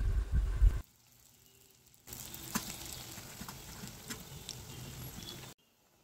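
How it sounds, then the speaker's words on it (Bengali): Green plantain fritters fry in hot oil on a medium flame, a steady soft crackling hiss that runs for a few seconds after a brief louder knock and a quiet pause, then stops abruptly. "একইভাবে এবার বাকি বড়াগুলো ভেজে নেওয়া হবে।"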